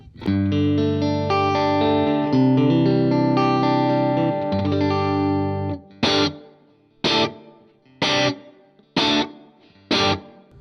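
Distorted electric guitar chords ring out through a pedal's room reverb with a spacious tail, followed by five evenly spaced strummed hits that each decay into the room ambience.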